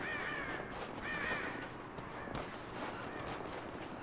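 Crows caw repeatedly in the video game Rise of the Tomb Raider, a series of rough calls over a steady outdoor ambience with no talking.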